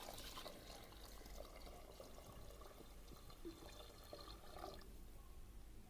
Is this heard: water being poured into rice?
yes